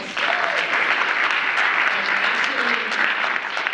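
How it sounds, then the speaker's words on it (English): A conference audience gives a loud, sustained round of applause, a dense crowd clapping evenly from start to finish with faint voices underneath. "Let's give my team a round of applause"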